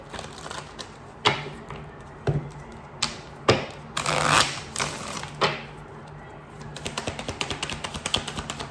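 Oracle cards are shuffled and riffled by hand in close-up, giving irregular soft taps and rustles that turn into a quick, rapid flutter of cards near the end.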